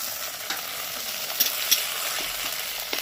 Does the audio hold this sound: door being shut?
no